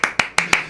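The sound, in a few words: round of applause for Jake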